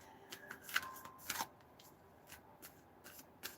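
Tarot cards shuffled by hand in a few short papery riffles and slaps, quiet and close, with soft rustling between the bursts and no talking.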